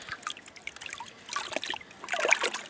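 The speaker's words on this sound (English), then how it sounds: "Now I submerge the bag in the water" A compost extract bag is submerged and washed in a bucket of water, giving soft trickling and sloshing splashes that come in irregular bursts, louder toward the end.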